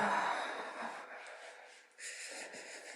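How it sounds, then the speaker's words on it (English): A soft, gentle breath drawn in and let out slowly, quiet and close, with a faint airy hiss and nothing else around it. "take a nice, gentle breath"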